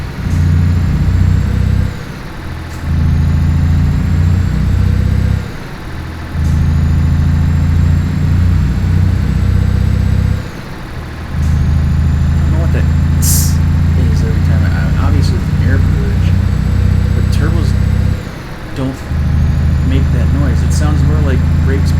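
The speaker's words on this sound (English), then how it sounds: "Just listening to the truck accelerate." Truck engine in Euro Truck Simulator 2 revving up in repeated loud stretches, each a heavy low drone that cuts out briefly between gear changes, with someone talking over it.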